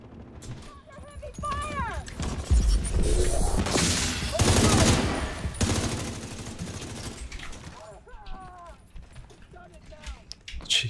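Sustained gunfire from The Division 2 during a bank headquarters mission, a dense burst of rapid shots building in the middle, with a player talking over it at the start and end.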